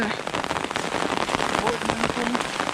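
Rain falls steadily on surfaces near a fish-trapping spot, a dense, constant patter with close drips throughout, while a person talks quietly over it.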